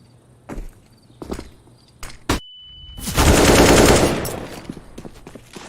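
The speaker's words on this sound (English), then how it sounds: "Throwing smoke." In CS:GO, a few footsteps and clicks are followed by a thrown smoke grenade that bursts into a loud, sustained hissing rush of smoke, lasting a second or so before fading.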